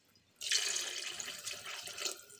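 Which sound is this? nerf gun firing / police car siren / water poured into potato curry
water poured into potato curry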